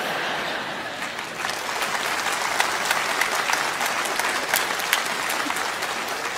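A theatre audience at a Vietnamese comedy stage show claps loudly and continuously, a dense wash of applause with scattered sharp claps throughout and no voices standing out.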